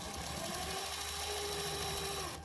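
A cordless power tool runs steadily on the bolts of a CFMoto 300NK motorcycle, a continuous high whirring whine holding a sustained tone for a couple of seconds with no pauses.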